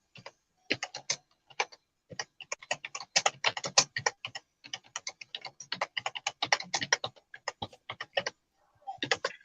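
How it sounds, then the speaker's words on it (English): Rapid typing on a computer keyboard, dense clattering keystrokes in uneven bursts with a few brief pauses, close and fairly loud with no voices. "I'm actually trying to learn how to type faster using more than two fingers."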